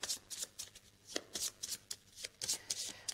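A pile of cards is shuffled by hand in quick, crisp riffling bursts, close and clear, repeating in an uneven rhythm with no talking.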